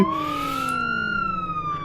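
A police siren from the Flashing Lights emergency-services video game wails loudly and steadily, one long rising-and-falling electronic tone sustained throughout.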